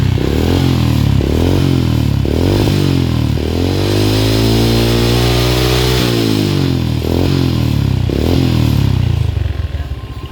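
A loud Honda Blade motorcycle with a bored-out exhaust muffler, raw and open, revs repeatedly, several sharp throttle blips and one long rising-and-falling rev, with no talking.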